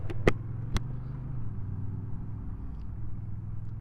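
A Honda Rebel 1100 DCT motorcycle idles at a red light, its low, even engine rumble held steady and close throughout, with a couple of sharp clicks near the start.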